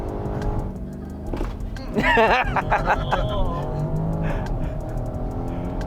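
A BMW X7 M60i SUV with a modified exhaust, tune and valve controller accelerates hard, its engine note rising in loud sweeps from inside the cabin while people talk over it.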